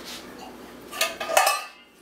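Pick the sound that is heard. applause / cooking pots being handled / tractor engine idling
cooking pots being handled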